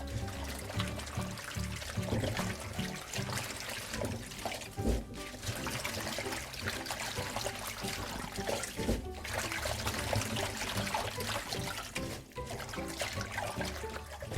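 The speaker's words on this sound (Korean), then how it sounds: "살랑살랑 흔들어서 씻으면 돼요" Spring cabbage swished gently in a basin of water to wash it, a continuous soft sloshing and trickling of water at moderate distance.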